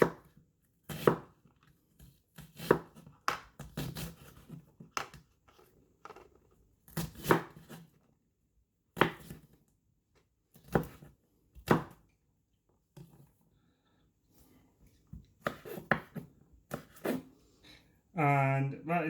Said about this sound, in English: And that is how the onion is chopped up and nice and finely.